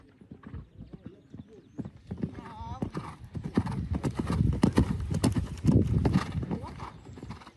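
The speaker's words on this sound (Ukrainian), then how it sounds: "На цьому відео Вікторія Маяцька на коні Бархані виступає на щорічних змаганнях" Horse hooves clip-clop on a show jumping course during an annual competition, steady footfalls growing louder and closer, with an occasional whinny and people talking over them.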